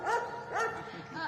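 A dog lets out a few short barks and yips at a steady moderate level, two clear bursts close together, heard in a lived-in neighbourhood home.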